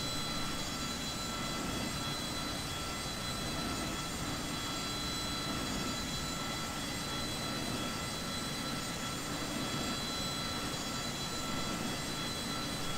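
A jet engine in a built Lockheed F-104 Starfighter model starts up with a steady, broad roar and a faint whine. The sound is constant and moderately quiet, with no voices.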